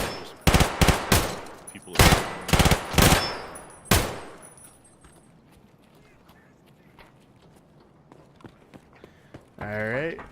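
Gunfire in Escape from Tarkov plays as loud, close bursts of rapid shots in the first few seconds, then drops to a quieter background. A voice starts speaking near the end.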